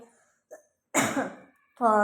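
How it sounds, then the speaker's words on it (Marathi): One harsh, close cough bursts out after a couple of faint breaths, followed by the start of a voice. "सॉरी मला थोडा खोकला आहे"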